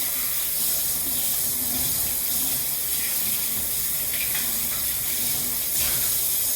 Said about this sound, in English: We're gonna go ahead and rinse our lid.